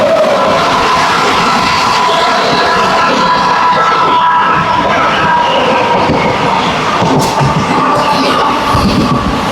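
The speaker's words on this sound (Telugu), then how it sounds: "zero 7035 Cherlapalli Anakapalli special train ఇది" The Charlapalli–Anakapalli special passenger train runs by close and loud, a steady rumble of wheels and carriages that lasts throughout.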